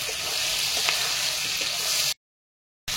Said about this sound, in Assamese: এইখিনি ভালকে লৰাই ভাজি দিম